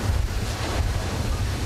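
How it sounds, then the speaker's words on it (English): Big waves crash ashore in Taiwan ahead of Typhoon Morakot, a dense, continuous roar of surf mixed with heavy wind buffeting the microphone, loud and steady with no speech. "Big waves crashed ashore in Taiwan ahead of the storm."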